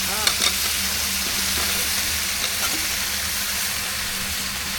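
Potatoes added to meat curry frying in a pan, a dense and constant close sizzle with a brief clatter near the start, steady throughout and no talking.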